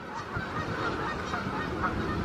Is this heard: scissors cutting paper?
no